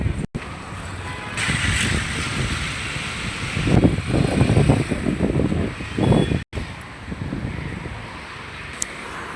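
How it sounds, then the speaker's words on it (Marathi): A strong wind blows close by as a loud, continuous rushing roar with buffeting swells and a couple of abrupt dropouts. "वारा खूप वारा सुटलेला आहे"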